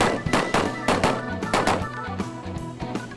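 Rapid gunfire at a USPSA multigun shooting competition, a quick string of sharp, loud shots in uneven bursts from a fast-moving shooter, heard alone without talk.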